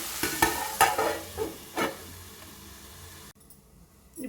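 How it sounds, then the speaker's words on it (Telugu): Green chillies frying in oil in a covered pan over low heat, with a scattering of sharp sizzles and spatters, some pops and bursts and a soft steady hiss, close and without speech, before a brief quiet spell. "అలాగే పచ్చిమిర్చి కూడా మూత పెట్టుకుని ఐదు నిమిషాలు లో ఫ్లేమ్లో వేగనివ్వాలండి"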